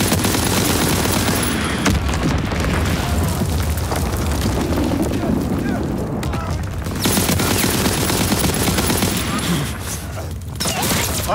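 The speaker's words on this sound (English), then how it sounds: "Dropping Fritz X-Bomb!" A Fritz X bomb strike in Call of Duty WWII sets off a dense, loud barrage of heavy booming explosions and rattling gunfire that roars almost without a break from start to finish.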